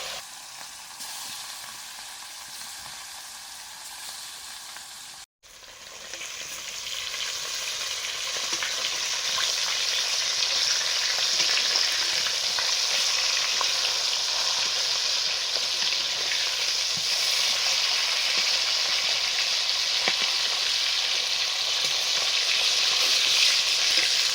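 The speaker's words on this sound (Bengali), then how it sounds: "মাছগুলো ভাজতে দিলাম" Steady, loud sizzling of golden carp fish seasoned with salt, turmeric and chilli powder frying in hot oil, a dense crackling hiss that continues without pause after a brief dip near the start.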